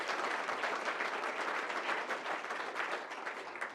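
An audience at a city chamber event breaks into sustained applause with some cheering, a dense continuous roar of clapping that holds steady for several seconds.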